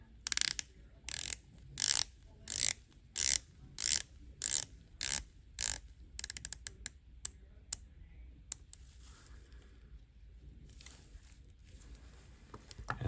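An Omega Seamaster 300M rotating bezel clicks close up, first in a steady series of crisp ratcheting bursts, then in sparser, lighter clicks.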